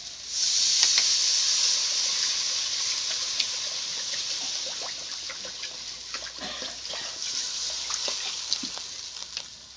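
Water poured into a pan of hot fried spiced potato curry sets off a sharp, steady hiss that fades slowly, with bubbling crackles and sputters underneath, close and alone.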